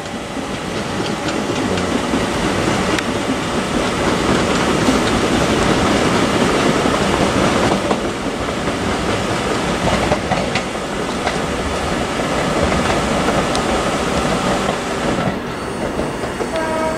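A Southeastern Electrostar electric train runs steadily at Tonbridge station, with a loud, continuous rolling roar and clattering wheels throughout, close by and without voices.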